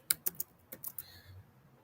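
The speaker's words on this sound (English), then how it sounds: "I'm typing this" Quick taps on a computer keyboard, a burst of three keystrokes followed by a few more scattered clicks, close and clear with no talking.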